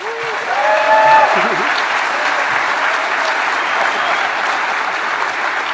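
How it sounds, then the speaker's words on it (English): A conference audience at a Defcon security talk bursts into loud, sustained applause that fills the hall, with a voice briefly heard at the start. "give them a big round of applause"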